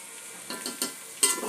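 Vegetables with salt and turmeric are stirred in a hot pan, giving a faint sizzle under a few quick scraping strokes that grow slightly louder toward the end.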